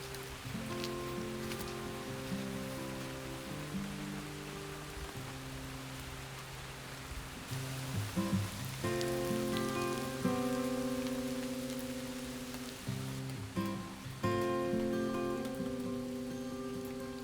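Steady rain falling and pattering on surfaces in a marsh, a soft constant hiss with tonal sounds layered over it.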